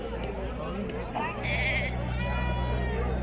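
Young goats or lambs bleat at a busy livestock market, a few short cries close by over a steady crowd murmur and people talking.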